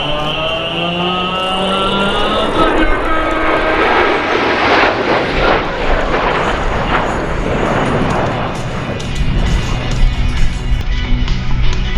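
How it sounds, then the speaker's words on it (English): A Super Stearman biplane's radial engine roars loud and close during aerobatics at the Columbus Airshow, a sustained droning growl with shifting pitch as the plane rolls and maneuvers. "Now she's doing aerobatic maneuvers herself as the plane itself rolls."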